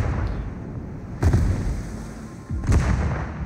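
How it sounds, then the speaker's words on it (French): Two heavy naval gun impacts strike a ship in World of Warships, each a loud booming blast with a rumbling tail, spaced about a second and a half apart over a steady low engine and sea drone. "tu prends des tirs par derrière"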